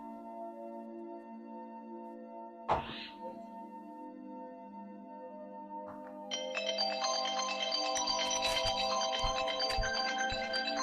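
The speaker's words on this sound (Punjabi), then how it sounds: "ਲੱਪਾ ਜੀ ਦਾ ਫੋਨ" A phone ringtone plays, a repeating electronic melody that grows louder and brighter partway through, following a steady hum and a brief knock.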